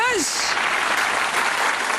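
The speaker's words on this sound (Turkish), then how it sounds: "Evet, alkış." Brief applause in a home kitchen begins just after a short voiced sound at the start, then continues as a light, steady clatter of clapping for about two seconds.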